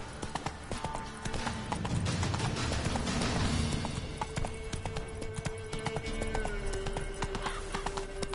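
Hooves of Geralt's horse Roach in The Witcher 3, a continuous fast clip-clop of galloping over several seconds with a steady rhythm and faint background score.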